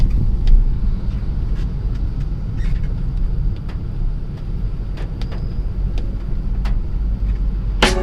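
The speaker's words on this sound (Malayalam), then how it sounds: "ഇപ്പോൾ വണ്ടി മൂവായി തുടങ്ങിയിട്ടുണ്ട്." A car moving slowly through congested traffic on the Alappuzha–Changanassery road, with a steady low engine and road rumble, wind buffeting the microphone and occasional faint clicks and taps throughout.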